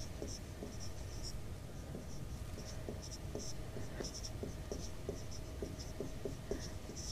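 Pen or pencil scratching across paper while an electric-bill sum is written out by hand in a Class 10 science lesson, a steady run of short, soft strokes close to the mic under low room hum.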